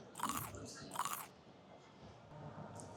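Bites into a crunchy matcha pastry at a food stall at Japan Expo Paris: two loud, close crunchy bites followed by quieter chewing, with no speech.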